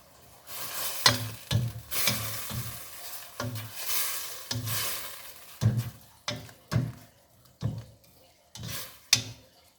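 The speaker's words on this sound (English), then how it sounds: "while the turkey is cooked, we're gonna wait a little bit" Turkey sizzles in a pan while a utensil stirs and scrapes it in repeated short strokes, each burst rising over a soft frying hiss.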